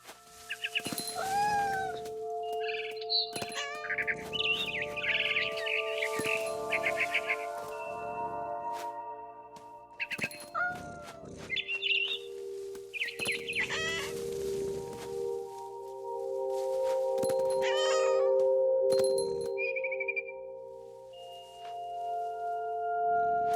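In the video game What Remains of Edith Finch, cat meows and yowls repeat irregularly over a steady tonal game soundtrack, with bird-like chirps scattered between them.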